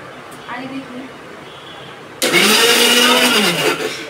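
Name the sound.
blender running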